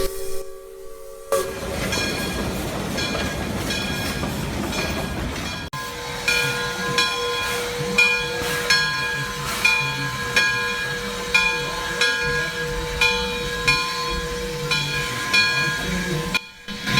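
A two-truck narrow-gauge Shay steam locomotive chuffs in a steady rhythm with a continuous hiss of steam, close and fairly loud, with no talking.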